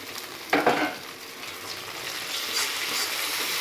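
Spice paste of cumin, black pepper and green chili with ginger and garlic fries and sizzles in a pan for a Bengali fish curry, a spoon scraping and stirring through it with a steady hiss over a brief louder stir.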